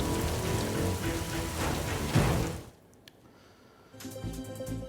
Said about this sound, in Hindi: अब आपको बारिश की कुछ और तस्वीरें दिखा देता हूं।